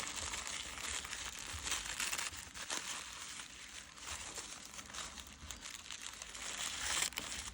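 Wrapping paper on a gift package crinkles and rustles steadily as it is unwrapped, a soft, continuous crumpling close by with no talking.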